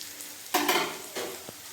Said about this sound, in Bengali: পেঁয়াজ লাল লাল করে ভেজে নিয়েছি